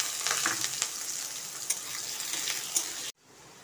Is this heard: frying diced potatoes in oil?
yes